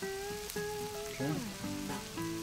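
Peeled, deveined tail-on shrimp dropped into a hot pan, sizzling and crackling softly while tonal clinks of utensils and other kitchen sounds come and go.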